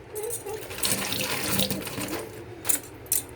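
Tap water runs steadily into a sink while raw chicken pieces are washed beneath it, with splashing and a couple of sharp clinks near the end.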